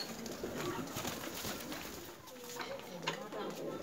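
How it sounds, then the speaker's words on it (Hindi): Pigeons cooing at close range in a home setting, soft repeated low coos over a busy background, with a person talking in between. "कितनी प्यारी कबूतर है"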